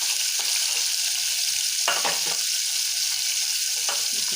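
Tomato sautéing in a pan for a potato curry, a steady bright sizzle throughout with a few scraping stirs of a spoon, close and fairly loud, nobody speaking.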